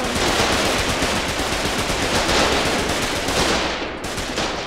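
Loud, continuous machine-gun fire in the Foxhole war game, a rapid unbroken stream of close shots in a large battle, easing slightly near the end.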